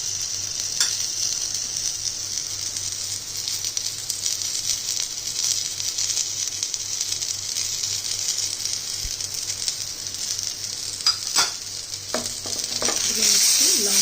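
Spices fry in a hot pan with a steady, close sizzle while a utensil stirs and scrapes, the hiss continuous and fairly loud with occasional clicks near the end; no talking.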